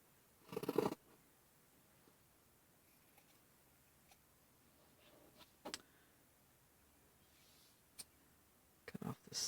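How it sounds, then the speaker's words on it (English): Scissors cut the hem from a t-shirt, a few short crisp snips spaced apart in an otherwise quiet room. "So first of all, I'm going to cut off the hem."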